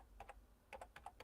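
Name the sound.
typing on a computer keyboard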